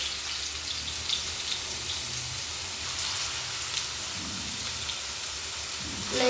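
Shrimp kofta, shaped by hand, fries in hot oil with a steady, even sizzle and a soft crackle that holds at a constant level throughout, with no voices heard.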